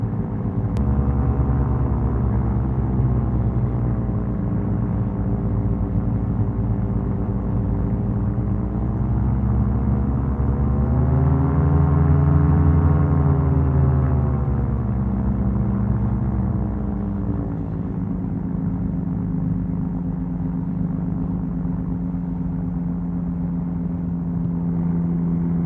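A Cessna 172's piston engine drones steadily from inside the cabin on a cold, windy day, a loud continuous rumble with a mid-clip rise and fall in pitch as the revs change.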